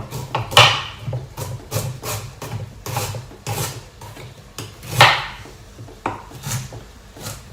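Ginger is chopped with a knife on a wooden board in a string of sharp, uneven knocks, about two to three a second, close and clear with no talk.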